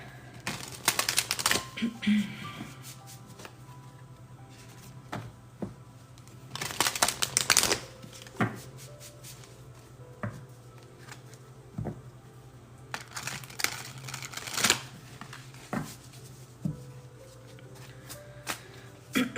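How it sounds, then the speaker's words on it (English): Tarot cards being shuffled by hand in a few separate riffling bursts, close and fairly quiet, with gaps between them over a steady low hum. "I'm gonna pull some tarot cards here."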